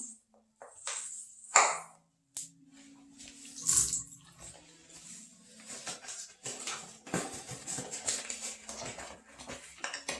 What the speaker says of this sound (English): Going to apply some water.